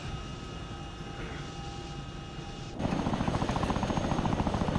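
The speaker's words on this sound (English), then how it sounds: "the helicopter is doing walls" Chinook helicopter flying in a military video game, a loud, steady rotor drone that suddenly swells into heavier rhythmic blade thumping partway through, with no talk.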